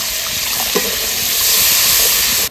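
Water added to spice masala frying in a pan, setting off a loud, steady hiss and sizzle that holds for a couple of seconds before cutting off abruptly.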